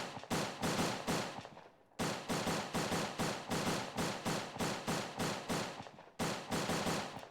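A 9mm gun in the video game ANEURISM IV fires in three strings of evenly spaced, fairly slow shots, each a sharp crack with a short tail, loud and close with brief pauses between strings and no talking.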